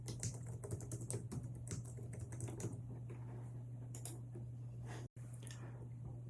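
A password is typed on a computer keyboard, giving a run of quick, close, soft keystroke clicks in uneven bursts over a steady low hum, with a brief pause near the end.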